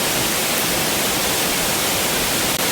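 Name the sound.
waterfall at campsite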